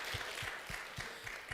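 A church congregation applauds during a worship service, a steady wash of clapping held at an even level for a moment, heard from a distance and fairly faint.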